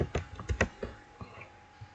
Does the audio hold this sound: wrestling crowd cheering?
no